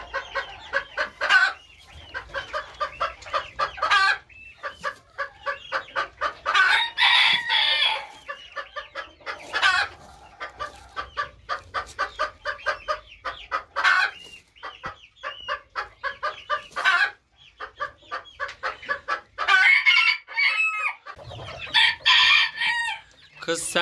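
An aggressive 4.5-month-old Serama hen clucks rapidly and repeatedly up close, bursts of busy clucking with occasional louder squawks, continuing almost without pause.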